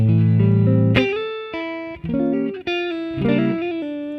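Clean electric guitar playing an RnB skate riff, loud close chords and single-note fills in a loose, syncopated rhythm with short pauses between phrases, no voices.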